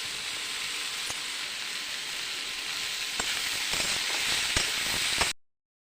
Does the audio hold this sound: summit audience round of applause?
no